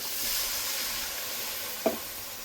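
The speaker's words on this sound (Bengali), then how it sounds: "দেখুন মশলা ভেজে নিয়েছি, তেল বেরিয়ে গেছে।" Chili, cumin and turmeric spices frying in oil in a pan, a soft continuous sizzle close by with one brief scrape of a spoon near the end.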